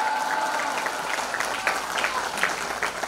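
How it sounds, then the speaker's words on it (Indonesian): An audience claps for Islamic boarding school students during a New Year's Eve religious sermon gathering, a dense, continuous round of applause that stays fairly loud throughout. "kita kasih tepuk tangan untuk santri-santri Al-Jamhuriyah yang adabnya sangat tinggi luar biasa"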